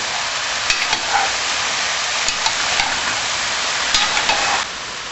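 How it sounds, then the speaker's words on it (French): Diced pumpkin for pumpkin-carrot soup stirred in a pot, a steady scraping and sizzling texture with a few sharp knocks of the spoon against the pot, close and continuous, no talk. "La prochaine étape consiste à mettre le potiron coupé en petits cubes. Mélangez le tout."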